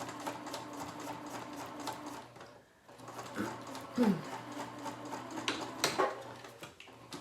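Sewing machine running in steady bursts while stitching the top edge of a fabric pouch pocket, a close mechanical whir with brief pauses, quiet talk in the background.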